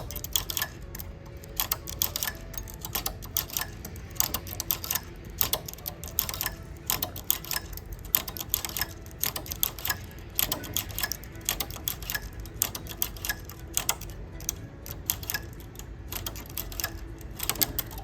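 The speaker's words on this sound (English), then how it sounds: "start off by transferring every other needle over to your right or to your left" Rapid, irregular clicking and ticking of metal needles being shifted one by one on a domestic knitting machine, close and fairly quiet, continuing steadily with no talking.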